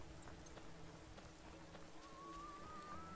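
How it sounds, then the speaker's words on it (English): Rain falling steadily in a town in The Witcher video game, a soft faint patter with scattered drops and a thin tonal whine entering midway. "everybody's hiding out in the buildings because it's raining"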